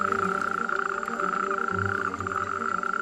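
A loud nocturnal chorus of male frogs at a lake, many voices croaking at once in a dense, steady, pulsing drone with a strong tonal buzz and no pauses.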